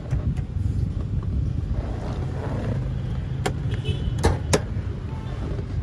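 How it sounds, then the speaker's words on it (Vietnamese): A 2018 Toyota Innova E idles with a steady low engine rumble outdoors, accompanied by wind buffeting and a few sharp clicks, with someone speaking nearby. "Khi mà đứng cái động cơ đang nổ đấy quý vị."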